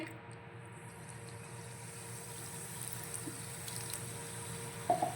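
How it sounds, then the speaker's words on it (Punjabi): Water is poured into a pressure cooker holding black chickpeas being roasted, making a faint, steady trickling wash that runs throughout with a few small splashes near the end. "ਸਿਰਫ ਇੰਨਾ ਹੀ ਪਾਣੀ ਪਾਉਣਾ ਆਪਾਂ"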